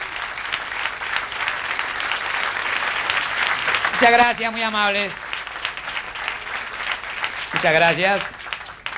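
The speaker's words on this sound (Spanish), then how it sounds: "Qué lindo aplauso." A studio audience at a live Argentine comedy television show bursts into sustained, dense applause that fills the room, while a voice speaks over it twice to thank the crowd.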